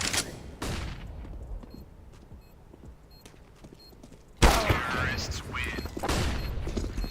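Flashbang grenade thrown in a video game, landing in a sudden loud bang midway that cuts through quieter earlier rumbles, followed by scattered crashes and bursts of gunfire-like noise.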